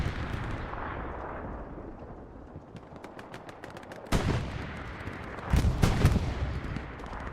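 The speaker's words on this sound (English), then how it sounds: "HLE basically just has 4 cannons shooting in to win 7 with a Puma, an AT gun, a Tiger," Tank and anti-tank cannons fire in the World War II game Hell Let Loose on Utah Beach, a rumbling battlefield din with a sharp heavy blast near the middle and a louder burst of shots toward the end.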